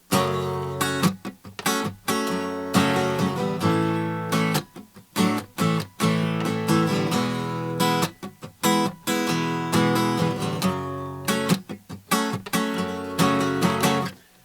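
Acoustic guitar strummed in a steady rhythm of chords, close and fairly loud, with brief pauses between phrases and no voices.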